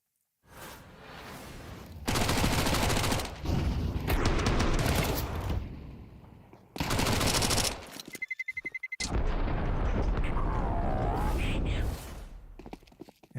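Bursts of automatic gunfire and rapid shots ring out during a Counter-Strike gun round in a BLAST Bounty Malta match between Astralis and PARI, with loud volleys separated by short gaps and a commentator's voice running underneath.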